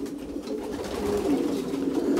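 Pigeons returning from a 45 km training flight coo close by in a soft, rising, throaty murmur.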